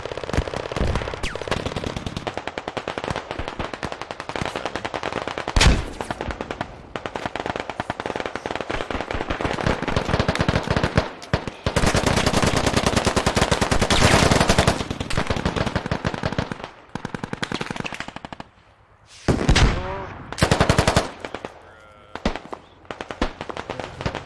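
Gunfire from SKS rifles and other weapons in the military shooter Squad, with dense bursts of rapid shots and explosive cracks, some loud and near, others distant, nearly continuous with brief lulls and no talk.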